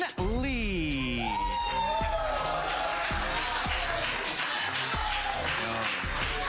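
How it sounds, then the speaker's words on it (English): Studio audience applause for guitarist Herman Li: continuous clapping and crowd noise, steady and fairly loud, mixed with a bright tonal whoosh and low rhythmic thumps. "Give a round of applause for iconic guitar legend, Herman Li."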